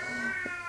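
A pet cat gives one short, close, clear meow with a steady tonal pitch, alone in a quiet indoor room.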